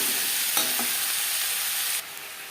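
Potatoes, onion and tomato sizzle in a pan as they are stirred, a bright continuous frying hiss with a brief scrape near the start, then the sound drops quieter toward the end.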